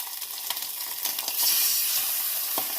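A seabass fillet pan-fries with a steady bright sizzle and spitting hiss, small crackles popping through at intervals, close and continuous with no talk.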